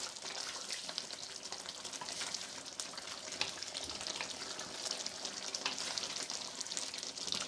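Mutton masala fries in oil in a kadhai with a continuous, soft, dense sizzle and crackle. The sound stays at an even level throughout with no voices.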